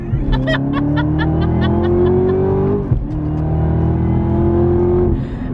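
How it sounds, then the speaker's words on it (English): A 2019 Camaro ZL1 1LE revs hard as its tires spin, engine pitch climbing steadily, dropping sharply near the middle, then climbing again. It is loud and close, with a brief rattling burst at the start. "Did not expect my tires to be spinning like that, but I managed to control it."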